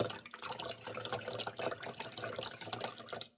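Water is poured to top up a container with another 2 ounces, a continuous gurgling, splashing trickle that stays close and steady for a few seconds, with no talking.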